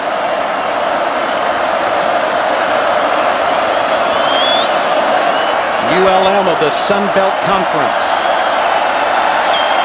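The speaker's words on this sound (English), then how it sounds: "Getting a taste of the Tigers Stadium crowd" The Tiger Stadium crowd at an LSU football game against UL-Monroe, a broad steady roar of cheering heard far off under continuous play-by-play commentary.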